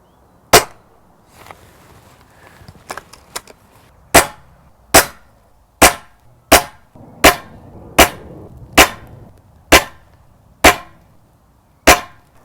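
A dozen or so sharp, snappy shots from a Norica Black Angel break-barrel spring air rifle, each a crisp crack, spaced fairly evenly and close by, with quiet between them and no talking.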